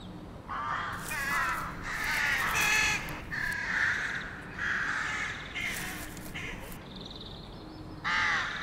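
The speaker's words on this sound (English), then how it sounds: "An incessant squawking fills the city air." Rooks in a city colony with fledged chicks flitting over roofs and trees call in repeated harsh, grating caws, several birds overlapping in bursts, loud and close with brief pauses between calls.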